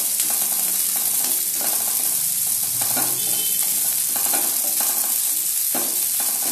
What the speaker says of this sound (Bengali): সামান্য একটু নাড়াচাড়া করে, এই পেঁয়াজগুলো একটু ক্রাঞ্চি থাকবে, খুব নরম হবে না।